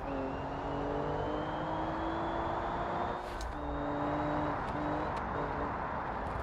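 Simulated 1000hp 2JZ Toyota Supra engine in the BeamNG racing game during a rolling start: a loud, steady engine drone climbing in pitch, with a brief dip near the middle like a gear change, and no talking.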